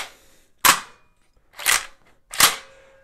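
Three sharp, close mechanical clacks, spaced about a second apart, as dummy shells are loaded into a Beretta 1301 Competition Pro shotgun.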